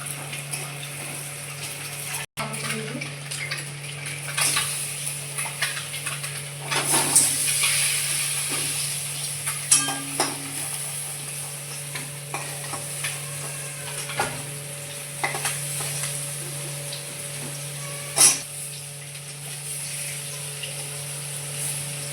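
Duck eggs fry in a pan with a steady, close sizzle over a low constant hum, broken by scattered clinks and scrapes of a utensil.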